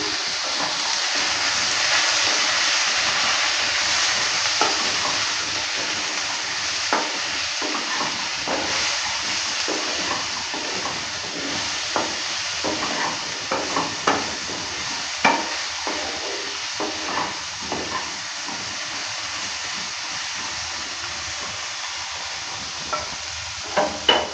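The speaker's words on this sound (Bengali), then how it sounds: "হাফ চামচ হলুদ গুঁড়ো দেওয়ার পর ভালো করে আবারও নেড়ে নিচ্ছি" Potatoes and teasel gourd frying in a pan with turmeric and Kashmiri chili powder, a steady loud sizzle with repeated scraping stirs of a spatula throughout, growing busier toward the end.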